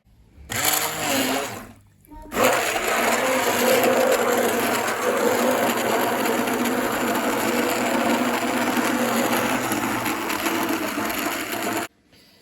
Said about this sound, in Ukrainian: Зараз я буду блендером все це на пюре перебивати.